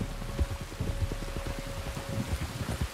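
Steady rain falls across an outdoor scene in Red Dead Redemption 2, a continuous broadband hiss with soft scattered patters and low thuds, fairly close and even throughout, with a faint sustained tone underneath.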